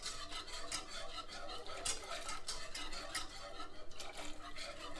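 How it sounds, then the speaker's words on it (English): Milk is stirred into a sauce in a pot for chicken cannelloni, giving a steady, close rasping scrape of a utensil against the pan bottom that runs continuously with no voices. "Keep adding milk, keep stirring it."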